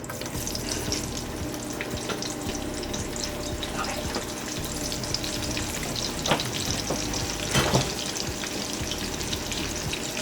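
Onion rings cook over low heat in a pan for liver and onions. A continuous close sizzle carries scraping and stirring noises and a couple of louder clatters near the end, with no speech.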